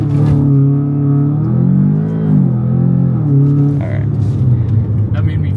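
A car billed by its dealer as stock accelerates hard through the first-to-second gear shift, a loud droning engine whose pitch climbs, dips at the change and climbs again inside the cabin, with people talking over it.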